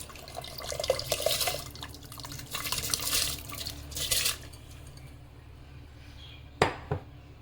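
Soaked rice for biryani goes into a pot of water in watery bursts of splashing and sloshing, then a quieter stretch ending with a sharp clink of a utensil against the pot.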